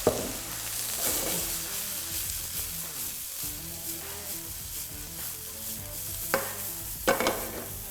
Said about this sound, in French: Un léger déglaçage avec le vinaigre.